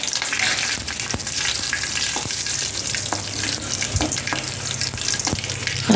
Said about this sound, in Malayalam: വെളിച്ചെണ്ണ ചൂടാകുമ്പോൾ കടുക് പൊട്ടിക്കുക